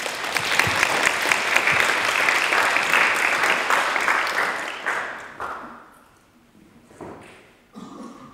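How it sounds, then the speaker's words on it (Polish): An audience at a medical event applauds to welcome a singer to the microphone, a full burst of clapping for about five seconds that tapers into scattered claps and a short murmur. "Oklaskami witamy Magdę."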